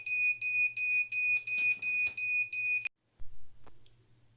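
A shrill piezo buzzer pulses in rapid, even beeps for about three seconds, loud and piercing, then cuts off, followed by faint clicks.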